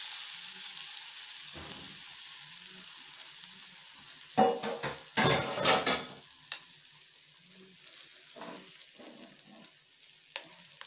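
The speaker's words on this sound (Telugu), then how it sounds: "మనం పోపు దీంట్లో వేసేసుకోవడమే" Hot tempering poured into homemade Telugu tomato nilva pickle gives a brief burst of loud sizzling with crackles, then a quiet hiss as the spices settle, heard up close with no voices.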